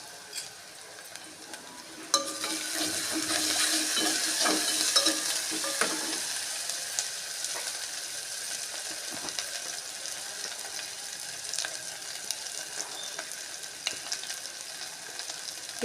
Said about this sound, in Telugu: ఇప్పుడండి అల్లం వెల్లుల్లి పేస్ట్ వేస్తున్నాను